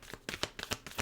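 Tarot cards being shuffled by hand, a quiet, close series of about eight quick riffling bursts in a steady rhythm, with no talking.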